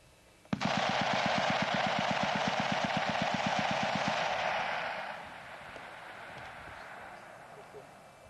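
A MAG 7.62mm machine gun fires a sustained automatic burst about 100 metres away, a rapid even rattle of shots lasting several seconds before cutting off into a fading echo and quiet outdoor ambience.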